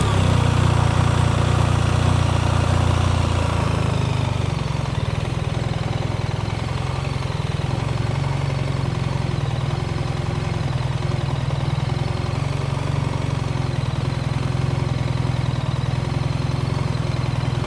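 A motorcycle engine runs at low revs during slow-speed riding practice, a steady close drone that barely changes for the whole stretch, with no voices over it.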